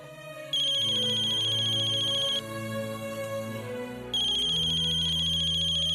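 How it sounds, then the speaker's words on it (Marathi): A mobile phone ringtone plays loudly and steadily in a home, a bright repeating electronic melody over a low musical backing, continuing for the full stretch with no voices. "कृष्णा, फोन वाजतोय की तुझा?"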